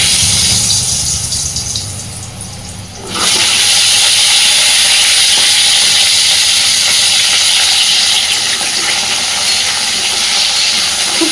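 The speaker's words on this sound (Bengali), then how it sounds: "কড়াইতে তেল গরম করে নিয়েছি এবার প্রথমেই গাঠি কচু আর আলুটাকে সুন্দর করে ভেজে নেব" Taro and potatoes frying in hot oil in a wok give a loud, steady broadband sizzle that bursts in sharply after a quieter start and then holds constant, with no talking.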